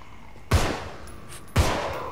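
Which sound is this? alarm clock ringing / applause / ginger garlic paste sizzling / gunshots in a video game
gunshots in a video game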